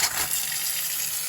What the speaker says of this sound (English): Water's running.